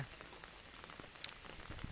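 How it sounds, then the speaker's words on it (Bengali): Soft, steady rain patters on a surface during a cyclone, faint and continuous, with a few sharper drops standing out. "সকালের চেয়ে এখন বৃষ্টির পরিমাণ অনেকটাই বেশি সাথে বাতাসও আছে"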